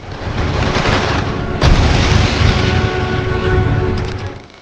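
Gunfire sound effect for a recreation of the Jallianwala Bagh massacre: loud, continuous rumbling barrage with a sharp blast partway through, dense and booming throughout without any speech.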